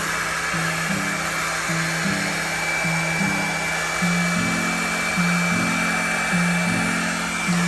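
A Revlon One-Step blow dry round brush on its low setting whirs steadily and close, its low motor hum stepping up and down in pitch in a repeating pattern.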